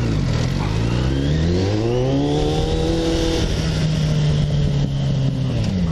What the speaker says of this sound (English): it will be a very strange tapping noise